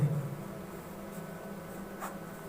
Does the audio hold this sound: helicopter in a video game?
no